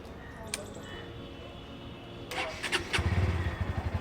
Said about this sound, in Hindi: अब स्टार्ट कर लेते हैं NS160 को।